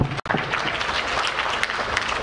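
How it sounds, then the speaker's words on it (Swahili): Audience at the opening of the 46th Sabasaba international trade fair applauding, a dense continuous clapping from a large crowd, loud and close, with only a momentary dip near the start. "Naomba makofi mengi sana"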